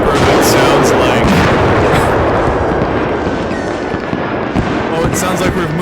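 Screamer fireworks in the video game Firework Mania: a loud, dense, continuous barrage of crackling bangs and pops, with faint whistling streaks running through the roar.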